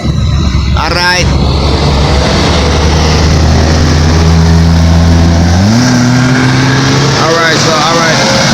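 Traffic passing at roadworks laying a second asphalt layer, with a steady engine drone that shifts pitch midway as a vehicle revs and moves, loud and close, with a voice over it.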